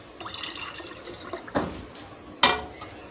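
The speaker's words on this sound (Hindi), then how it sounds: "ये जूस हमारा ठंडा हो गया, इसे हम जग में डालेंगे" Homemade mango juice poured from a pan into a jug, giving soft liquid splashes and trickles with two brief louder gushes near the end, close by and fairly quiet.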